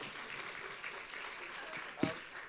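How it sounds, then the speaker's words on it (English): An audience at a health innovation pitch competition gives a round of applause, a soft, fairly distant wash of clapping with voices faintly underneath. "shall we give him a round of applause?"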